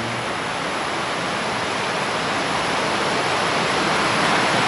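An Indonesian river flows steadily nearby, a dense continuous rush of water with no pauses, loud and close, heard alone.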